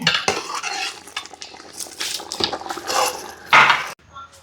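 A spoon stirs corn flour slurry into a pot of chicken corn soup, scraping and clinking against the metal with liquid sloshing in uneven strokes, close and moderately loud.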